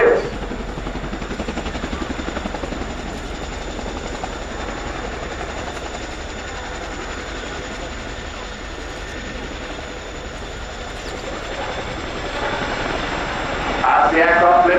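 A Chinook helicopter at an air show lands and reverses on two wheels, its heavy continuous rotor and engine roar loud and steady throughout, swelling slightly toward the end.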